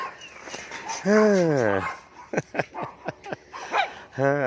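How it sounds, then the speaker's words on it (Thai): A dog barks a few times outdoors during work with a soil wheelbarrow, with a drawn-out whining yelp followed by a run of short sharp barks, close and loud, mixed with people talking. "หมาพี่เลี้ยงเห่าเลย"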